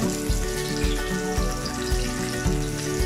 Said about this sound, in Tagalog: Ito may nagpiprito dito.